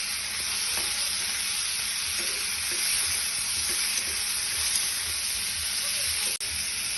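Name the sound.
tomatoes sautéing in pan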